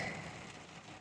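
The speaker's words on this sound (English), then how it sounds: "listening to the rain on the roof of the adventure truck" Steady rain patters on a truck roof overhead, a continuous even hiss with no voices.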